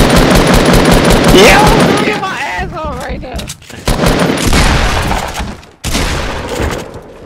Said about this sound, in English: Sorry about the minigun.